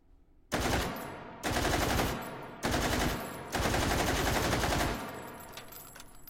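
A rifle fires in a VR shooting game, four loud bursts of rapid automatic fire with short pauses between them, each trailing off slightly before the next begins.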